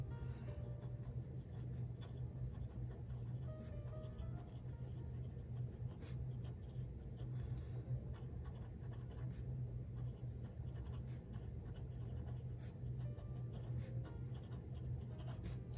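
An Ellington pen with a medium nib scratches steadily across paper. The writing is faint and continuous, set against a low, constant background hum.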